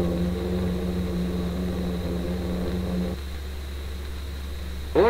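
A Vickers Viscount turboprop airliner in flight around 1960, heard as a steady loud droning hum with strong low tones from the cabin, continuous and close throughout.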